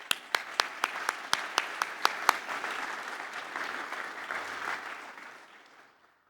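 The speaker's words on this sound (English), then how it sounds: "Can we please give them a big round of applause?" Applause at a science awards ceremony begins with a few sharp, separate claps, then fills into a dense round of clapping from the audience that fades away to silence.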